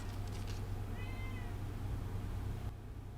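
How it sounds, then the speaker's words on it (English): One faint, drawn-out cat meow sounds once over a steady low electrical hum. "Can you hear him meowing?"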